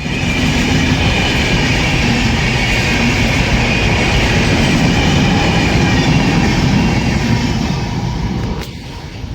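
Visakhapatnam–New Delhi AP Express, an Indian passenger train, rumbling past close by on a cold winter morning, a loud steady roar of rolling wagons with faint clickety-clack that eases slightly near the end.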